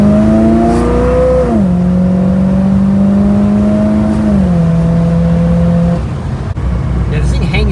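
A 1975 Chevrolet Monza with a 350 V8 pulls hard and loud, holding one gear as the revs climb steadily, ease, then climb again before backing off near the end, with a voice talking over it.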